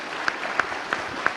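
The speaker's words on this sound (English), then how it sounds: "Now I would like you all, please give the big clap for our speakers." Audience applause at a conference session, a steady patter of many hands clapping with a few sharper claps standing out, moderately loud throughout.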